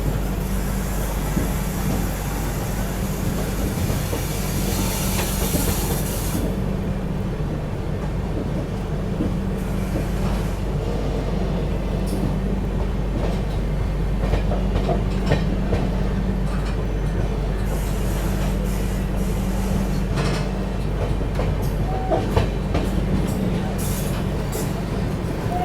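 Ganga Sutlej Express on its Firozpur to Dhanbad run, heard as a steady low rolling drone and hum from inside the moving train, constant and moderately loud throughout.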